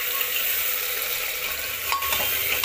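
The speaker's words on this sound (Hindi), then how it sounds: "प्याज को हम गोल्डन ब्राउन होने देंगे" Onions fry in a pan toward golden brown, a dense, bright, continuous sizzle close by with a couple of brief stirring scrapes near the end, no talking.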